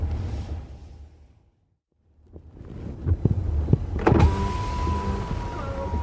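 A car power window being lowered, its motor whirring after a short silence, followed by close clunks and a steady hum of the idling car.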